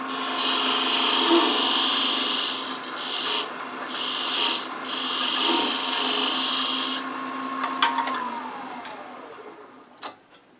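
A wooden box is threaded with a thread box, giving a steady, close rasping and rubbing of cutting into wood with brief pauses, then fading into scattered small clicks and a soft knock near the end.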